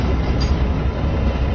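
A train rolls past close by with a loud, steady rumble and rattle of wagons, unbroken throughout.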